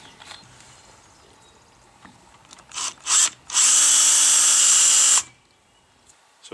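A power drill with a 7/32 bit bores a shallow hole into a shotgun stock for a sling swivel. Two short revving blips come first, then a sustained, loud, high whine of about two seconds that stops sharply.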